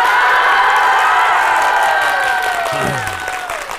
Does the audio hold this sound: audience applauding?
yes